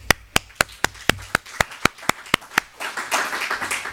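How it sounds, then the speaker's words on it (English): Audience applause for panelists at a health research ethics guidelines launch: a single person claps in a steady, sharp rhythm at first, then many hands join in a denser wash of clapping. "Many thanks and applause to them."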